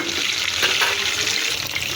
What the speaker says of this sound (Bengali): ডিমটাকে আমি আগে ভেজে নেবো সুন্দর করে